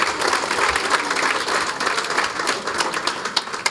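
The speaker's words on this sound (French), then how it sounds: "Je sollicite de l'assistance une forte salve d'applaudissements au bénéfice de cet ancien." A room full of people claps for a former pupil during a school building inauguration ceremony, a steady, close, energetic round of applause with a few sharper claps standing out near the end.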